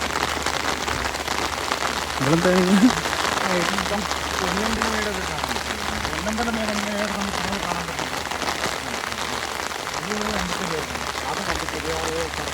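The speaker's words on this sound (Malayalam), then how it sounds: "ആ പിന്നെ മഴയാണ്." Steady rain falls on surfaces outdoors at Thekkady, a continuous even patter under a voice talking on and off across the whole stretch.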